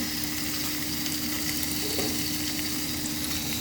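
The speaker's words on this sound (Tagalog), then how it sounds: "Ilalagay naman natin ngayon ang ating chicken." Chicken pieces frying in a pan with sautéed onions give a dense, steady hiss and sizzle throughout, close and even in level, with no talking.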